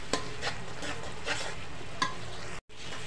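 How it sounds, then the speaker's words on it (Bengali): Spices such as turmeric and chili powder stirred and fried in a pan for a potato and fish curry, giving a steady close sizzle with repeated scraping strokes of a spoon, no talking. "এখন ভালোভাবে নেড়ে চেড়ে মশলাগুলো দিয়ে কষিয়ে নেব।"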